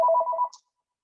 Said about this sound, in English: Please excuse my phone ringing